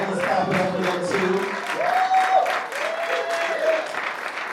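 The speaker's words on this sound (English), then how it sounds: "Let's clap it up for them too." An audience claps for musicians at a live music session, a dense burst of applause that carries on throughout with a few scattered cheers.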